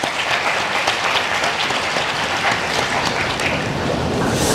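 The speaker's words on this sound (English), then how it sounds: "A big round of applause for all of them." Loud, thick applause fills the hall as a conference audience at an IEEE international conference at VIT-AP University claps steadily throughout, with a slight swell at the end.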